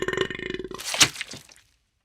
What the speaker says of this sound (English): He burps loudly, and several slugs slime out of his mouth.